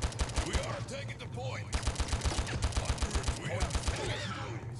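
Rapid automatic gunfire from a first-person shooter on mobile, Heroes of Warland, in repeated close bursts with short gaps and brief game sounds mixed between the shots.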